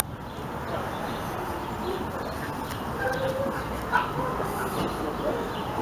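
Dogs bark and yip among a dense outdoor bustle, scattered short barks and whimpers surfacing over steady crowd noise and voices, fairly close but partly masked.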